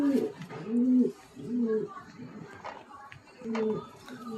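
Two hen pigeons of a Kolkata bloodline coo close by in repeated rolling phrases with short pauses between, while voices murmur in the background.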